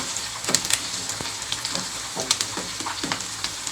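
Chopped onions fry in a pan for egg fried rice while a spoon stirs them, a steady close sizzle broken by irregular scraping and crackling taps, with no talking.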